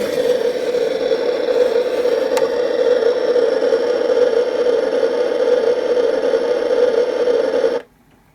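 A Star Trek The Next Generation 7th Anniversary Gold Edition U.S.S. Enterprise NCC-1701-D toy plays its cruising engine effect. It is a steady, loud electronic hum with a faint whir, running unbroken for about eight seconds before cutting off abruptly.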